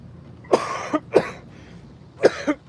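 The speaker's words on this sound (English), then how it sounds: "I am coughing and sneezing as if there is" A person coughs four or five times in short bursts, close to the microphone, with brief quiet gaps between them, outdoors on a swinging bench at Disney World on a day with pollen in the air.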